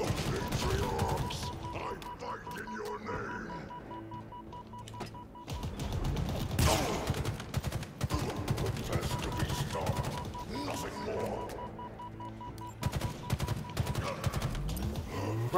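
Rapid gunfire bursts and crashing impacts from the video game Halo Infinite, dense and continuous over about fifteen seconds, with a voice talking over the shooting.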